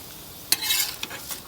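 Frying potatoes scraped and pushed to one side of a pan, a few quick utensil scrapes and clinks over a soft, steady sizzle.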